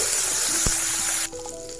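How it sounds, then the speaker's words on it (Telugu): Butter sizzles in a well-heated pan, a bright continuous fizzing hiss with a brief pop, then drops abruptly to a quieter, softer sizzle toward the end. "బాగా హీట్ అయిన తర్వాత కొద్దిగా బటర్ వేసుకొని"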